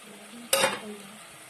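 Tomatoes drop into hot oil with spices for matar paneer, giving one sudden loud sizzling burst that fades into a softer hiss within about a second.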